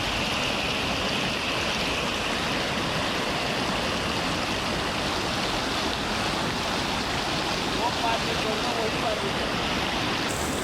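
Steady, loud rushing of a swollen, flooding river in Chhattisgarh, India, flowing continuously, broad and unbroken, with no voices standing out.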